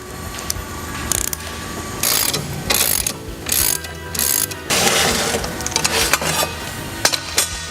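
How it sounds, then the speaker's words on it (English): A ratchet tightens motorcycle fork pinch bolts during a Burly Brand slammer kit install, with rapid loud clicking bursts and metallic clanks, close up and without talk. "we can tighten the pinch bolts and replace the bars"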